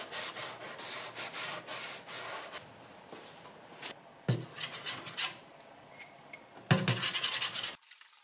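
Rough rhythmic rubbing as Odie's oil is worked by hand into a wooden furniture top, steady back-and-forth strokes with a few louder scrapes and brief pauses, close and alone.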